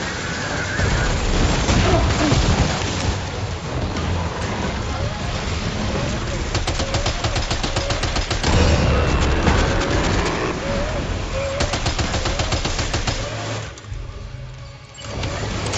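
Gunfire in the video game Death Stranding 2, dense bursts of shots rattling over a noisy, rain-like background with rumbling layers, continuing for a long stretch before thinning briefly near the end.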